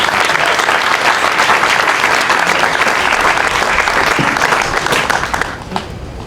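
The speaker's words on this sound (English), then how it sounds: "Can I get a round of applause for Mr." Loud, sustained crowd applause at an outdoor Flag Day celebration in Batavia, a dense steady roar of clapping lasting several seconds before thinning slightly at the end.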